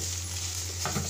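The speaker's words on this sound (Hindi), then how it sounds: "चिकन को मैं मीडियम फ्लेम पे 5 मिनट के लिए पकाऊंगी" Chicken cooking in a pan on medium flame, a steady even sizzle with a low hum beneath and a couple of soft stirring knocks at the very end.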